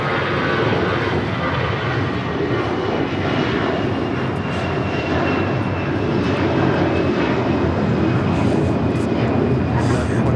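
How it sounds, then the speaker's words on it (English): An American Airlines Airbus A321 jet takes off at Los Angeles International Airport, a loud, steady engine roar sustained throughout with a broad rushing hiss and faint high whine. "2890 taking off to Heyo, Dallas, Fort Worth on the A321"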